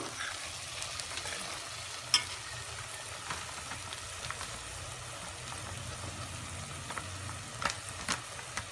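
Onion, ginger and garlic frying in a pan for a raw mango and prawn curry, a continuous low sizzle close by with occasional soft clicks of a stirring spoon.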